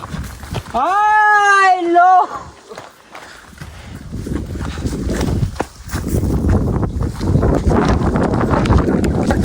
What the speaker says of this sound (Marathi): वारं खूप सुटलंय